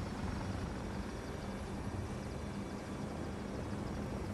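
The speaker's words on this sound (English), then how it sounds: "See if we can bait this chopper out here." A helicopter in the Battlefield 2 video game drones with a steady, unbroken rotor and engine rumble that holds at a constant level throughout, with no talking.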